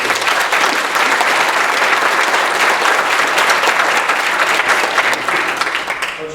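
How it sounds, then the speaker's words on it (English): Audience applause at an annual organizational meeting, a dense, steady clapping from a sizable crowd that fills the whole stretch and eases only slightly near the end, with no talk over it. "Please give them a round of applause."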